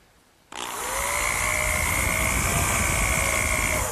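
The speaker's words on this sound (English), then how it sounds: "just drill a hole down into the side frame" A power drill starts abruptly and runs continuously at high speed as it bores a hole into a wooden side frame, producing a loud, steady whine close up.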